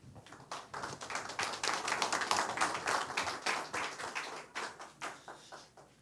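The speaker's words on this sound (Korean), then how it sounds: "멀리서 오셨는데 박수로 환영하겠습니다" A small audience of pastors at a Seoul humanities academy claps to welcome a visiting professor, with distinct individual hand claps rising and then thinning out over a few seconds in a quiet room.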